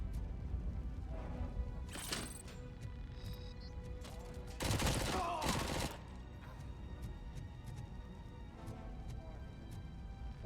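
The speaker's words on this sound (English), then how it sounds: "9mm pistol." Quiet 9mm pistol gunfire in Robocop: Rogue City, heard as a short burst of shots followed a few seconds later by a denser cluster, set low against ambient game background.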